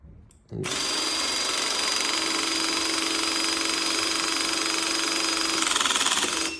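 A cordless electro-hydraulic press crimper starts with a click and then runs as a steady, loud motor-and-pump whine. The drone holds evenly for several seconds and rises slightly near the end as pressure builds.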